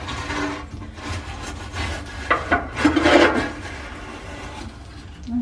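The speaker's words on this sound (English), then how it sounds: "I was hoping that if I get in there and just rub this back and forth that it would, the hook would grab it" Hook rubbed back and forth to grab a fallen item during a laundry room deep clean, giving close rasping, scraping strokes with irregular rhythm that build into a louder cluster midway before easing off.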